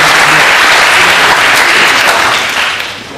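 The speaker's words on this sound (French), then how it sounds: "je crois qu'on peut vraiment les applaudir" An audience at a conference on spirituality and violence applauds the volunteers, a dense, loud burst of clapping that carries steadily and then tapers off at the end.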